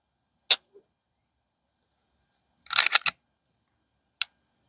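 A pistol trigger, PSA or Glock, gives a sharp click, then a tight cluster of clicks and a final lone reset click, crisp and close against silence.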